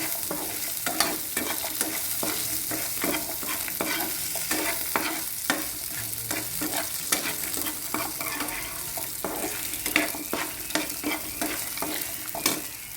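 Chillies and onion frying in a pan for a dried fish chutney crackle and sizzle up close, while a spoon stirs and scrapes in a quick, irregular rhythm throughout, with no voices.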